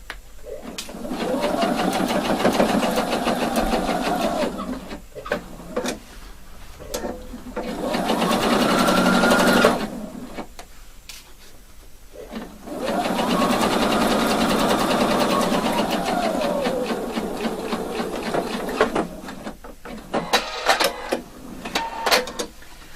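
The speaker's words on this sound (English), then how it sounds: "now I'm sewing from that cross point all the way down and catching the stitching I already made" A sewing machine runs in three long bursts of rapid, even stitching as it sews down a lapel collar, with short pauses between runs; a person talks over and between the stitching.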